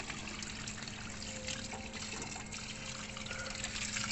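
Water trickles steadily from the sink drain of a Jayco caravan being cleaned out, a continuous close wash of dribbling liquid with no voices over it.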